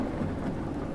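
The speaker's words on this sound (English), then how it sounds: "as you can hear pretty clearly, it's raining very strong in the virtual worlds, and it's thunderstorming and lightning" Heavy rain pours steadily in a thunderstorm in the VR train game Derail Valley, a dense, close roar layered over a deep rolling thunder rumble that continues throughout.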